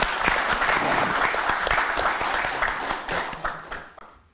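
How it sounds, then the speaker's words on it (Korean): A crowd at a political campaign rally in Gwangju claps for several seconds, a dense, fairly loud burst of applause that builds and then tapers off near the end. "우리 위원장님 힘내시라고 박수 한번 주십시오"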